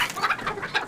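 Chickens and roosters in a winter yard give a brief burst of quick, close clucks in an uneven rhythm, with no voices.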